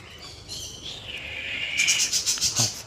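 Birds call and chirp at a lakeside picnic spot where ducks and swans gather, with soft, fairly distant chirps building into a brighter burst of calls toward the end.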